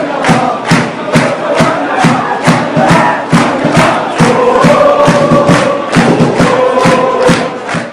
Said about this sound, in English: The culture of cheering and chanting fans is well established in Kenya, but at Celtic, they have taken it a notch higher.